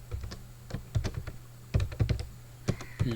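Someone types C code on a computer keyboard in irregular clusters of close, crisp key clicks separated by short pauses, with a low steady hum in the background and no talking.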